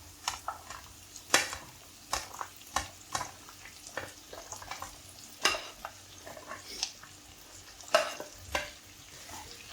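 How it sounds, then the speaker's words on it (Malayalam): Okra frying in a pan with onion and turmeric over high flame, a soft sizzle under repeated scraping stirs and occasional utensil clinks, close by with no talk. "ഇനി നമ്മൾ തയ്യാറാക്കി വെച്ചിരിക്കുന്ന വെണ്ടയ്ക്ക അതിലേക്ക് ഇട്ട് കൊടുക്കാം"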